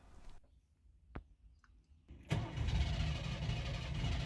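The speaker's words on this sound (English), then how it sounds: "start the engine" A 1988 Suzuki Samurai engine clicks over briefly, then catches at once and settles into a steady, loud idle that runs to the end, with no talking.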